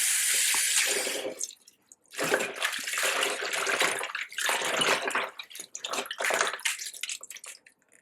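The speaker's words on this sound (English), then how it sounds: "we'll rinse the cabbage very well." Running water splashes and gushes in uneven bursts as cabbage is rinsed under a tap, with brief pauses between the bursts.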